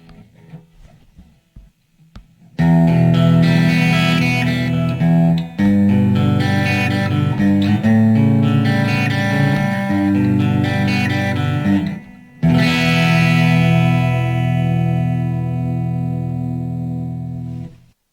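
A Fesley Super Strat electric guitar with a triple-black finish plays on its bridge pickup with a clean tone, ringing chords and notes sustaining loudly with short breaks between phrases.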